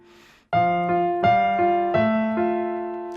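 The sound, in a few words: keyboard playing Handel melody with Alberti bass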